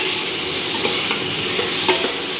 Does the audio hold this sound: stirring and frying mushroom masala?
yes